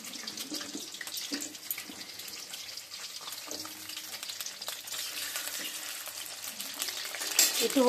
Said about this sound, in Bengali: এখন আমি আলুটা ভেজে নেব আগে।